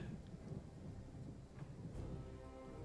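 Steady rain hisses with a low, distant rumble of thunder underneath in a strategy video game battle, faint and continuous throughout, with no voices.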